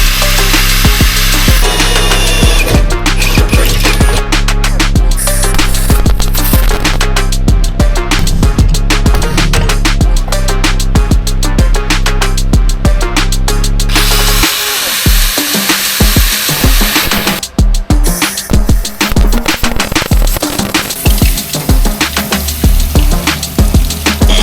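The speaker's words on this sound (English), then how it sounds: "I'm going to continue cleaning up that strut so I get a nice smooth finish and you don't see any weld marks" A power tool grinds and smooths a welded strut on a Supra kit, a loud, steady whine with rapid bursts and pauses, close and alone with no talk.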